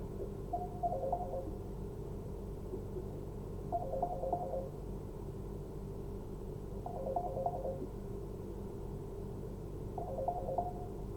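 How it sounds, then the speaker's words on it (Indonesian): A telephone rings in a steady repeating pattern, short bursts of electronic ringtone spaced about three seconds apart over a constant hum in an indoor room. "jawab dulu teleponnya"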